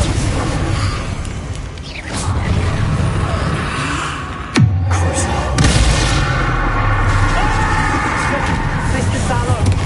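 Confringo spell explosions in the Hogwarts Legacy video game: a dense, continuous roar of blasts and rumbling with one sharp, loud burst near the middle, all thick and close.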